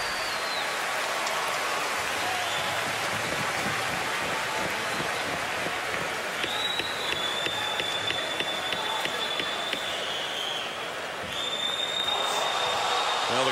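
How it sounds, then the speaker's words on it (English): Hockey crowd at Madison Square Garden during a Rangers–Bruins playoff game, a steady roaring wash of arena noise reacting to a replay, loud and continuous throughout with some faint whistle-like tones. "Crowd here at Madison Square Garden just seeing the replay."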